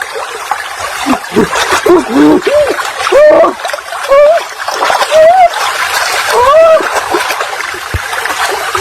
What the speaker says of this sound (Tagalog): Ito lang guys yung butterfly na langoy.